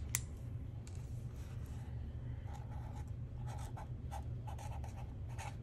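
Pen nib scratching across planner paper in a summer stationery set, a thick-tipped pen making soft intermittent strokes, close and quiet, alone with no talk.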